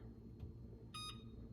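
An oven timer is set and gives a single short electronic beep with bright harmonics, faint against a quiet room hum.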